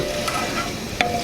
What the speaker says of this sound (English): this is now when we will add our gravy from the turkey with all of that good bits